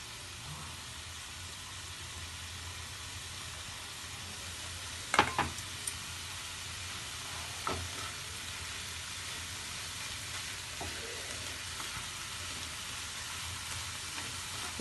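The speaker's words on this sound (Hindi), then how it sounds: "तापर आमे कटा जाइथवा साग टिके पकेबा।" Chopped kosala saag greens frying in a pan, a soft steady sizzle throughout with a few brief clinks and stirring scrapes in the middle.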